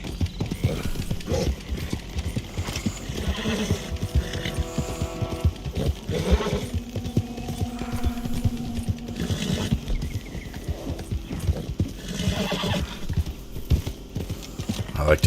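A horse in Red Dead Online clops along with rhythmic hoofbeats and snorts, growing restless among alligators in a swamp, mixed with game music and someone talking over it.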